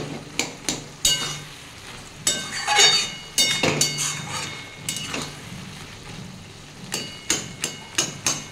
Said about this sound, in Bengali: আমি এগুলো একটু খুন্তির সাহায্যে একটু চেপে দিচ্ছি আলুগুলো।